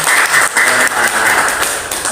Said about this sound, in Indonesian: Tepuk tangan Bapak Darto.